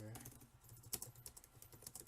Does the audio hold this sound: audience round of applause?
no